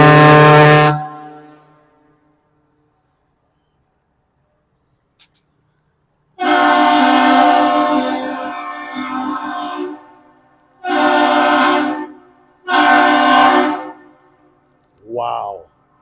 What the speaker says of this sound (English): We did get the steam whistle.